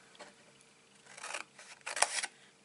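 Scissors snip through card while trimming a gift box. A few quiet, close cuts and crisp snips build toward the end, with no voices.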